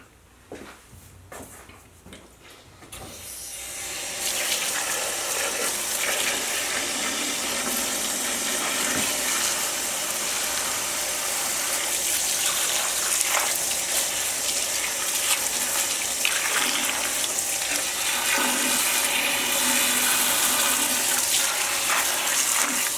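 Water pours steadily into a pot holding smoked venison bones, onions, carrots, celery, parsley and garlic, beginning with a few splashes and then settling into a constant close gushing that lasts about twenty seconds.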